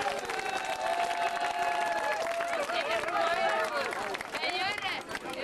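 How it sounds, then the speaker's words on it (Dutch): Crowd applause at an outdoor village festival parade, a dense continuous wash of clapping mixed with cheering, whistles and crowd babble, steady and loud throughout. "Ja, en dan vind ik weer om een daverend applaus voor jezelf"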